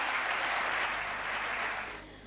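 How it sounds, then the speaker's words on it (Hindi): Dense crowd applause at a Hindi comedy poetry gathering, a steady wash of many clapping hands that thins out near the end of the short burst. "जोरदार तालियों से आप स्वागत करें।"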